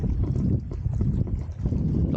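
Strong wind gusting across an open-water fishing spot, buffeting the microphone with a low, rumbling roar that rises and dips over a couple of seconds.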